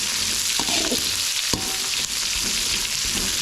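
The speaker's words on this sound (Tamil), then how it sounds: "வெங்காயம் வந்து நல்லா வதங்கட்டும்" Sliced onion sautéing in a pan, a constant bright sizzle broken by a few spoon scrapes and stirring knocks, heard close with no voices.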